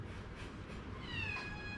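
A pet cat meows indoors: a faint, short, rising meow near the end of a quiet room murmur.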